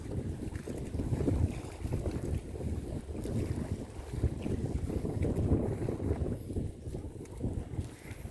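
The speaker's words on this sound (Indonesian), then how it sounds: "Suasana sore ini" Steady wind buffets the microphone with a low, continuous rumble at a village pier in Wonggarasi Barat, while faint water and boat noise lie underneath throughout.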